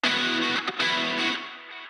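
Electric guitar run through overdrive, an 80s-style chorus, and heavy reverb and delay for a pop rock song, sustaining a dense, bright chord that dips briefly, then rings on and slowly fades, heard alone.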